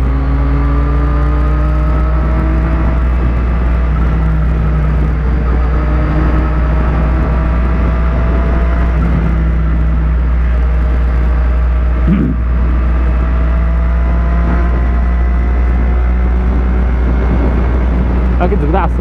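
Motorbike ridden through city traffic on a southern ring road, its engine a steady loud drone with shifting pitch throughout, wind and surrounding car noise mixed in, and someone talking over it.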